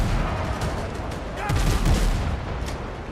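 A ship's cannon volley in the video game Windrose, with a burst of deep booming shots clustering mid-way over a rumbling battle din.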